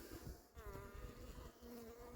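Honey bees of the Ukrainian Steppe breed hum continuously close by, a faint steady drone with a higher whine as one passes near.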